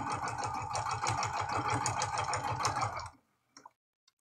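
A sewing machine stitches a quilted Valentine's heart card with a fast, even rhythmic chatter for about three seconds, then stops, leaving a few faint clicks.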